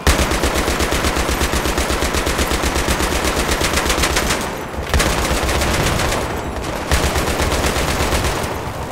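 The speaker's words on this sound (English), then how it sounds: "You can literally see I'm on a machine gun." Rapid machine gun fire in the video game Battlefield 3, loud and close, rattling in continuous bursts with two brief pauses and no talking.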